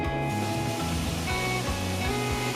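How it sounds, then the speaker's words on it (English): A hot pan set on a soaking wet towel gives a steady, fairly soft hiss of sizzling with faint crackle, alone and unbroken throughout. "If you hear a sizzling sound like this,"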